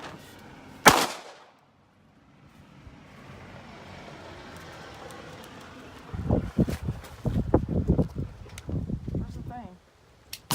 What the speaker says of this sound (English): Shoot the big steel.